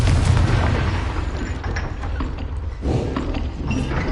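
A Confringo fire spell detonates in the video game Hogwarts Legacy, giving a loud, sustained rumbling boom that rolls on for several seconds with a second surge near the end.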